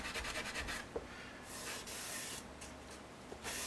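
Glue is wiped and scrubbed off a small wooden freight crate model, making close, soft rubbing and brushing strokes in quick bursts, with a steadier scrape partway through and no talk.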